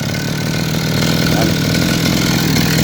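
A Kawasaki TD40 brushcutter engine runs at a steady idle, a loud, even, buzzing drone held close throughout.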